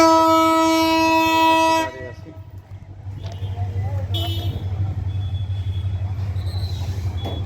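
A train horn blares loudly for about two seconds, then the Rangpur Express rumbles past close by at Santahar railway junction with steady clattering wheel noise.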